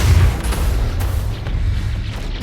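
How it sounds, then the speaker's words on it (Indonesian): Deep rumbling boom from a collider exploding in the film Spider-Man: Into the Spider-Verse, fading into a lingering low roar, with faint crackling debris sounds scattered throughout. "Semua kekacauan itu mengakibatkan Collider meledak."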